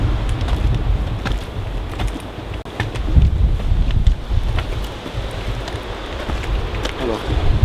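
Strong gusting wind, a mix of warm and cold air, buffets the microphone with a low rumble and rustling, loud and continuous, while a voice speaks faintly underneath.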